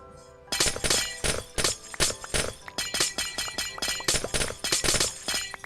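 Blocks being smashed in Minecraft with the FTB Infinity Evolved modpack, a fast, loud series of crunchy breaking and shattering hits in steady rhythm, each ending in a short clink, with no talk.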